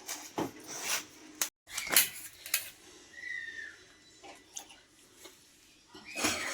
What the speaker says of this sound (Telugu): తీసుకొని మనం సన్నగా కట్ చేసుకోవాలండి. పీసులు వీలైనంత సన్నగా